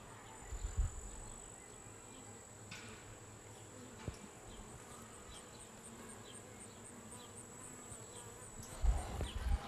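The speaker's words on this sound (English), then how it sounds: "See a lot of bees up on top." A steady, low drone of many honey bees buzzing together on top of a hive, soft and continuous, with a few faint bumps and rustles near the end.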